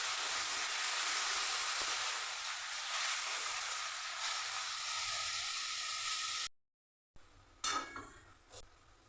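Boiled banana flower hitting a pan of spiced potatoes, giving a steady, fairly loud sizzle and hiss that runs for several seconds, breaks off, then resumes with a few clattering stirs.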